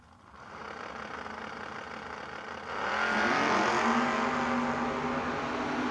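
A Chevrolet Camaro drag car at a no-box 660 shootout drag race gives a steady engine roar that swells louder midway and holds at full volume, with no voices.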